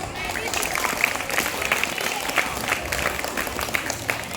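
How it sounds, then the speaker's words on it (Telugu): Applause from an audience at a classroom program, a dense steady clapping of many hands, fairly close, with a voice faintly underneath. "ఒకసారి ఉషారాణి మేడం గారికి క్లాప్స్."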